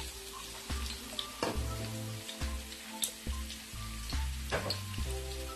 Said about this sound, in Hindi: जब ऑयल गर्म हो जाएगा तो इसमें मैं एक अनियन डालूंगी स्लाइस में कटे हुए।